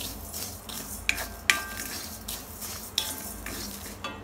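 Cumin and toor dal being stirred in a pan, with a soft sizzle and dry rustling plus several sharp clinks of a spoon against the pan, alone and fairly quiet.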